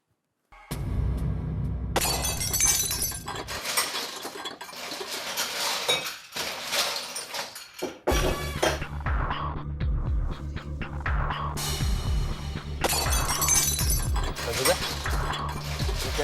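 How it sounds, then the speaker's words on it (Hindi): Metal utensils and dishes crash and clatter to the floor in a home kitchen, with loud bursts of clanging and clinking that come and go over a low, droning background. "किचन से बर्तन गिरने की आवाज आ रही है।"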